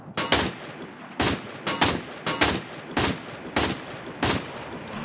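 Gunfire in the video game Free Fire MAX: several sharp bursts of automatic weapon fire, each a quick cluster of shots, recurring every half second or so over a low background.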